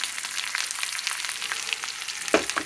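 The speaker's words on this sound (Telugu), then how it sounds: "ఈ పోపు వేసుకొని ఇందులో పప్పు, వెల్లుల్లిపాయలు, జీలకర్ర, పచ్చిమిరపకాయలు, బచ్చల కూర" Tempering spices crackle and sizzle in hot oil for a dal with bachali greens, a dense continuous close frying hiss with small pops and a brief louder spatter near the end.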